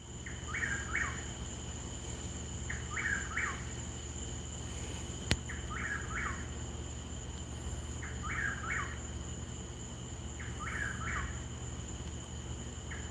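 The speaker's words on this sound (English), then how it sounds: "Can you hear that whippoorwill?" A whippoorwill calls at night at moderate distance, repeating its short phrase about every two and a half seconds over a steady drone of crickets and a low background hum, with no one talking.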